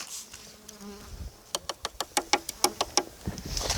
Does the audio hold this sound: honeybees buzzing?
yes